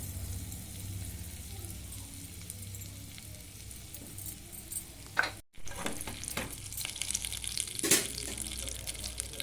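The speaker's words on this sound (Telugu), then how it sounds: "కడాయి పెడతాన్నా ఇగో బటర్ వేస్తున్నా బటర్" Butter sizzling in a hot kadai on a stovetop, a steady crackling fry throughout with a brief clatter midway and a few sharper pops near the end.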